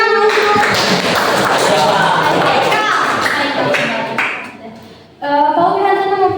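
A class of students clapping during a teacher's lesson, several seconds of dense nearby clapping mixed with voices, dropping briefly before a speaking voice returns.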